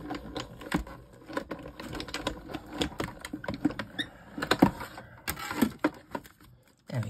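Thick 300 GSM card being cut, a quiet, close series of irregular crisp snips and scraping clicks.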